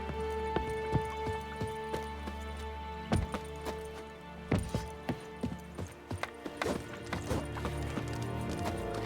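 A horse gallops in The Witcher 3, with steady rhythmic hoofbeats over a droning musical background and no talking.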